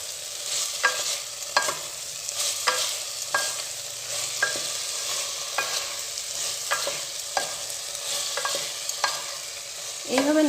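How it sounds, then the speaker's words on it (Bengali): Pumpkin greens with sugar being stirred in a frying pan, a spatula scraping and tapping the pan in a slow repeated rhythm over a soft continuous sizzle, close and fairly quiet, no talking. "বেশ কিছুক্ষণ এইভাবে নাড়তে থাকবো যতক্ষণ না সেদ্ধ হয়ে আসে"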